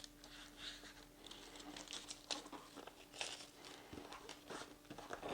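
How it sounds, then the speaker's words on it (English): Close, quiet crinkling and crackling of silver foil tape being handled and pressed, irregular taps and rustles in short bursts for a few seconds, no talking. "So what I'm going to try this time is kind of silver foil tape"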